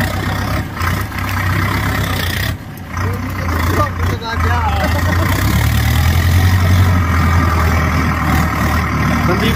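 A New Holland 5620 tractor engine runs steadily outdoors in a field, a low continuous rumble with people talking over it throughout.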